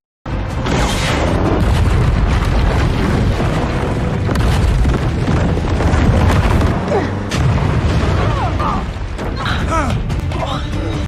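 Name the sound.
explosion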